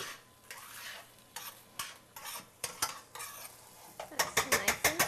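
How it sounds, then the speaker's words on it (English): Diced onion and cooked chicken sizzle and crackle in a hot pan, a steady frying hiss broken by repeated scraping stirs that grow sharper and more rhythmic toward the end, close up with no talking. "We're just going to let that sizzle for a few minutes."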